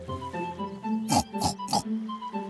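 Cartoon pig oinks three times in quick succession, short bright snorts standing out over soft background music in an animated children's story.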